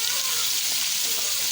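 Garlic and ginger paste frying in a pan for a Pakistani matar chicken curry, giving a steady, loud, close hiss that spreads across the whole moment without a break.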